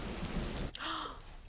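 Rain from a scene in the 2005 film Pride & Prejudice hisses steadily for a brief moment before cutting to a different, quieter sound.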